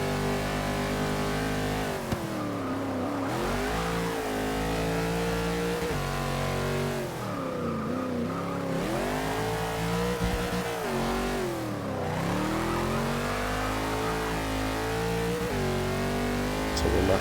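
Race car engine in Forza 6 on the old Mulsanne layout at Le Mans, a loud continuous drone climbing through the gears with repeated lifts and downshifts into braking zones, then rising again, no voices.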